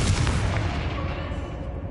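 Confringo fire spell explosion in the Hogwarts Legacy video game, a loud booming blast that decays over about two seconds with rumbling debris, close and dominant.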